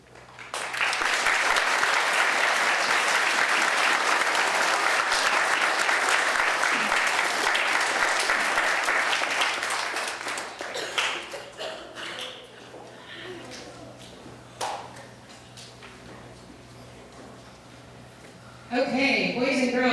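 An audience at an elementary school Veterans Day program applauds loudly and steadily for about ten seconds, then the clapping fades into scattered claps and room murmur.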